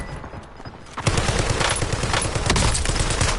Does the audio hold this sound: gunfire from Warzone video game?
yes